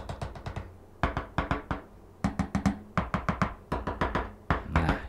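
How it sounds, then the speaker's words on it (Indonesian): Knocking on a tabletop picked up by a streaming microphone, sharp raps in quick clustered bursts of three to five, repeated through the clip, close and fairly loud with no talking. "Oke, selanjutnya dari masalah meja, ketukan meja."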